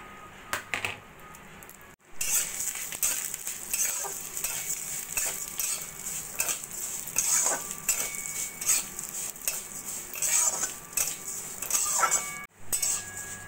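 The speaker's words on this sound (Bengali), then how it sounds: "প্রথমে সেমাইটাকে আমি হালকা করে একটু ভেজে নেব।" Vermicelli lightly frying in hot ghee in a wok gives a close, continuous sizzle, broken by frequent metal spatula scrapes and stirring clinks.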